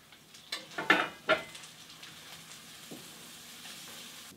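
Butter, sugar and nuts cooking together in a pan for homemade toffee, giving a low continuous sizzle with a few sharper scraping and stirring clatters near the start, close and moderately quiet, with no talk.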